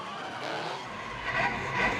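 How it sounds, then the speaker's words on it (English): A race car spins and skids on a circuit, a sustained tire squeal and scrubbing roar rising and swelling over about two seconds, loud and close with engine noise underneath. "I'd still count that as a spin despite the amount of lock Duar's car had, allowing him to flick it back the other way"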